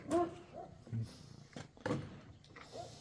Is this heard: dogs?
yes